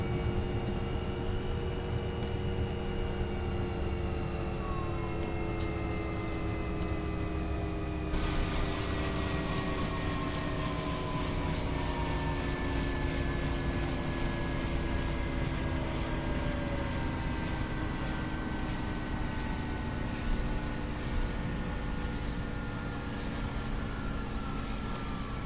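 A UH-1 helicopter's rotor spins down in the X-Plane 12 flight simulator: a continuous whine and hum whose tones slowly sink in pitch over about 25 seconds, with an abrupt shift partway through and no speech.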